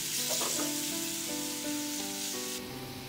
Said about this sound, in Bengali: পেঁয়াজ বাটাটা 1 মিনিট একটু নেড়ে নেব।